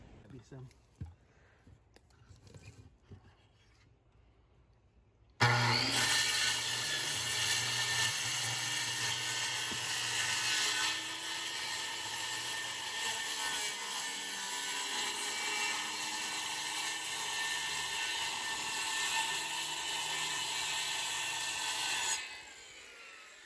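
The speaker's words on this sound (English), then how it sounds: "I got a skill saw. I cut it to depth, so it's only going to cut a 1/4 inch in there, so it's just going to score it." A skill saw set to a quarter-inch depth scores rotted siding on a chimney, a loud continuous whining cut lasting many seconds after a short stretch of quieter handling sounds, then spinning down at the end.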